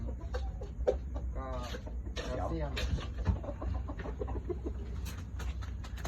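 A fighting rooster clucks in short repeated bursts close by, mixed with people talking and other farmyard noise.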